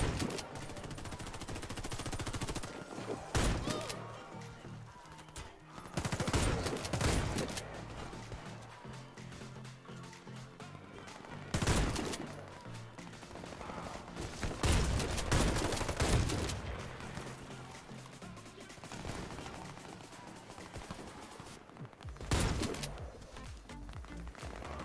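Gunfire in the online shooter game Warface, dense bursts of rapid shots and booming blasts in a busy, continuous mix, with quieter stretches between heavy volleys.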